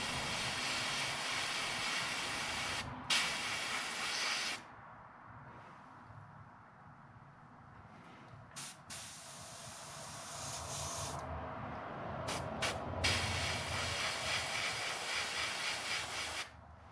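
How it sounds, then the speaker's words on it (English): An airbrush sprays orange paint over yellow on a small bluegill fishing lure, giving a close steady hiss in bursts with short pauses between passes. "I am going to take that little bit of yellow and just spray, orange, and just spray right over top of the yellow"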